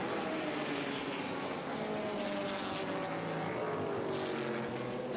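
A 1976 Porsche 935 K3 race car pulls away during a historic race at WeatherTech Raceway Laguna Seca, its engine a steady loud roar that rises in pitch, heard at a distance with no talk over it.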